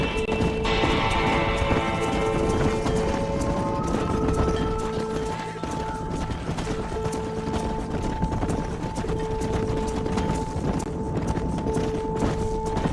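Rhythmic hoof clip-clop of a galloping horse in Red Dead Redemption, steady and continuous, layered with game music tones and background ambience.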